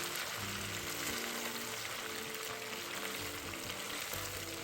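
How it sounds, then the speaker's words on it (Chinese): Slices of pork belly are deep-fried a second time over high heat in hot oil with garlic cloves, giving a dense, continuous, loud sizzle throughout with no talking. "将花肉全部放回热油内复炸，一直快火油炸至肉片金黄香脆"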